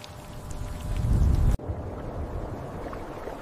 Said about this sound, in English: It began to rain concentrated sulfuric acid.